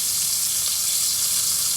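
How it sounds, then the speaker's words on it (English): Duck breast searing in a pan over medium heat, a dense, even hiss of sizzling fat, loud and close, steady throughout without talking. "I'm gonna let them sit here and sear off a little bit"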